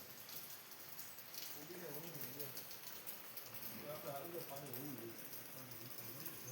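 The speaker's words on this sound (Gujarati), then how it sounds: "હજી વરસાદ ચાલુ જ છે" Steady rain falls across open farmland, a soft continuous hiss that lasts throughout, with faint voices and birds in the background.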